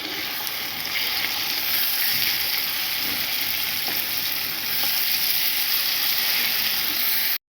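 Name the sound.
prawns frying and stirred with bitter gourd and onion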